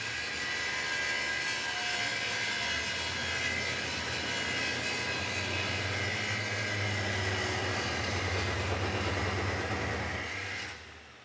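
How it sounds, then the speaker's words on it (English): A gas generator strains to power a chop saw and an angle grinder cutting steel over a long extension cord, a loud steady engine-and-motor roar with whining grind that holds throughout before cutting off abruptly at the end. "that generator is having trouble keeping up with the application with just the two tools plugged in because it does not have enough starting watts"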